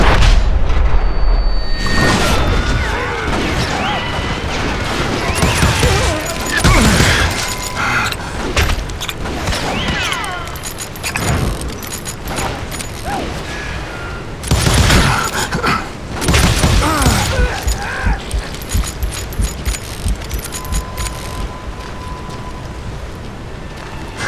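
Gunfire and explosive booms in the Western shooter Call of Juarez Gunslinger, a dense, loud battle mix of shots, impacts and rumbling over continuous game ambience for the whole span.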